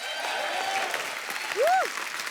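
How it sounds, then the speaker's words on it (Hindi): Studio audience on a Hindi comedy talk show clapping steadily throughout, a dense broadband wash with a brief whistle-like swoop near the end. "एक बार जोरदार ताली हो जाए।"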